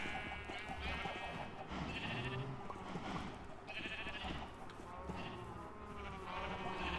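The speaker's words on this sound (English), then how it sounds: "I'm trying to actually herd all of these sheep into another space." Several sheep bleat over and over at close range in the Township Tales game while being herded, their cries overlapping across the whole stretch.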